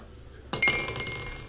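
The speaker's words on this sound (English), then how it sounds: "Let's go and roll the dice and see what we get." Dice rolled for a tabletop-style randomizer, heard as a sudden bright clatter and a couple of quick clinks on a hard surface after a brief silence, then fading, with no voices.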